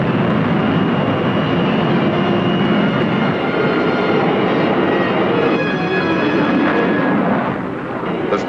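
A 1965 USAF jet interceptor fighter aircraft flying supersonic while closing on a target, a loud, steady jet roar that holds throughout with no pauses.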